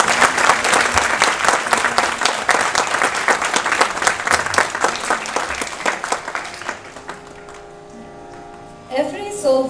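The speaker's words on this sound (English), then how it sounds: "Can we have another round of applause," An audience at a saxophone and flute arangetram recital gives a dense round of applause that thins out and fades, followed by talking.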